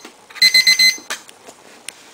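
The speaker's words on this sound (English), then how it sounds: "once the clock alarms" A socket welding machine's timer alarm beeps four quick times in a row, sharp and close, followed by a few soft clicks and bumps.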